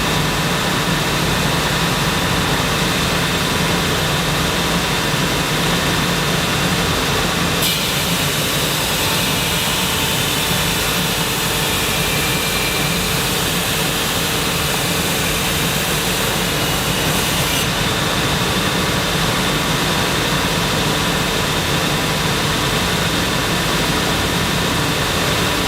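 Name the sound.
C150 floating head machine finishing stainless steel rectangular tube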